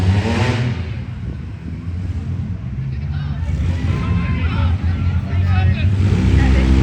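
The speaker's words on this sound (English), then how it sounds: "They all gather up by one of the barricades and beat and bang on each other a little bit." Demolition derby cars at a fair grinding against one another by a barricade, engines revving and rumbling with scattered knocks beneath a noisy crowd and voices throughout.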